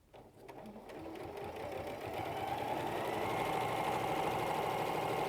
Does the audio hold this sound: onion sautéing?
no